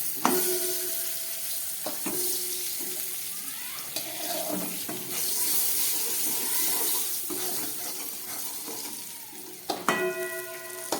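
Eggplant fried with salt and turmeric, with four green chillies added, sizzles steadily in a pan, with a few sharp clinks of a utensil against the pan partway through and near the end.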